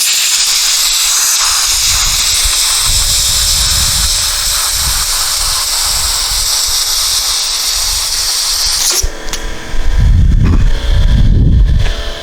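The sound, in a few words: compressed air blowing debris out of a roof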